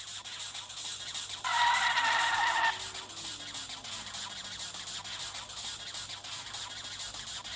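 A car drives and skids in the Roblox video game, a continuous engine drone under a short, loud tire squeal in the middle, with a falling engine tone as it fades back to the steady drive.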